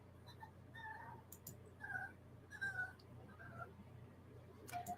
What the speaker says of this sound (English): No, that's my dog I hear.